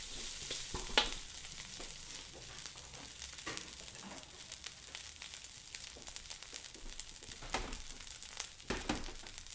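Pineapple fried rice sizzles steadily in hot oil in a pan, a continuous crackling fry with scraping and stirring noises and a few sharper pops throughout.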